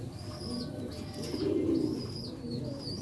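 Sialkoti rooftop pigeons, including a silver-grey bird, coo softly with low murmuring calls that swell for a moment midway, against faint background noise and a few thin chirps.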